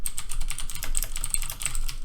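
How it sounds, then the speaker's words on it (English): Rapid clacky typing on a loud Razer BlackWidow mechanical computer keyboard, keys struck in quick irregular bursts close to the microphone, with no voice over it. "Sorry about my keyboard. I know it's loud."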